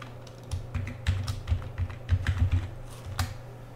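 Typing a password on a computer keyboard: a short, irregular run of close, crisp key clicks, some tapped in quick clusters and others spaced apart, in a quiet room.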